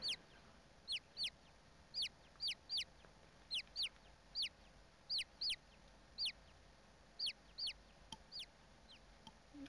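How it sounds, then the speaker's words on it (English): Clucking birds in The Great Ace Attorney Chronicles video game, heard as about fifteen short, sharp squawks spaced irregularly over a quiet room-tone background, with no talk. "There's just birds."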